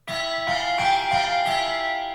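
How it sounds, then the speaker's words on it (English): Synthesized church bell tones from the Omnisphere Nylon Sky sound library ring out in a quick, even series of strikes, their bright overtones sustaining and overlapping. "Let's go church bells."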